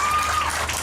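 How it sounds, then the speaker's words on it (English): A crowd applauds at a student conference closing ceremony, a brief wash of dense, loud clapping filling the hall. "a big round of applause to the beloved team of General Assembly 3"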